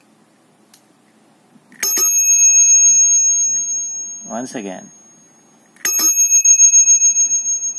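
Cateye bicycle bell rung twice, each a bright sustained metallic ring with a shimmering decay, separated by a brief spoken phrase between the rings.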